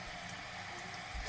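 A toilet tank refills after a new fill valve is installed, giving a steady low hiss and rush of water running into the tank, fairly quiet and continuous with a faint gurgle near the end.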